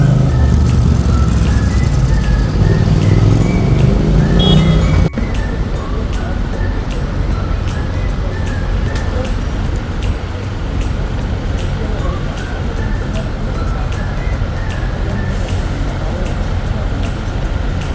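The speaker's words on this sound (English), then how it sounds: "I can see one of Golden Tour's T-buses." Pink Golden Tours sightseeing bus in central London traffic: a heavier engine rumble for the first few seconds, then a steady roadway hum with passing vehicles.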